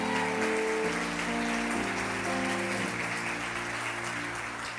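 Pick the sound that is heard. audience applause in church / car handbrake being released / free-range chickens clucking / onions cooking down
audience applause in church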